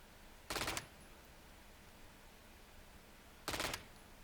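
Two short, sharp bursts of Stinger SMG fire in a video game, each a rapid cluster of shots about three seconds apart, loud against a quiet background.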